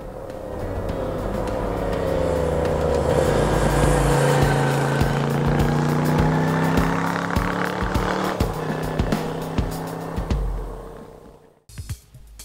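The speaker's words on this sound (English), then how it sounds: "enjoying that rock and roll beat of a Moto Guzzi V-twin, chilling out and enjoying the ride" A Moto Guzzi V7 Stone V-twin motorcycle rides past, its engine note rising and falling in pitch as it approaches and pulls away, loud and steady before cutting off abruptly near the end.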